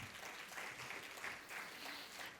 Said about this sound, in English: She was one of our, please clap.